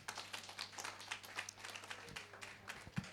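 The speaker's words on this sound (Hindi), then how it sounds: "सब कोई जोरदार ताली बजाइए।" An audience at a golden jubilee celebration in a convent claps in a quick, fairly rhythmic run of sharp hand claps, faint and somewhat distant, with no speech over it.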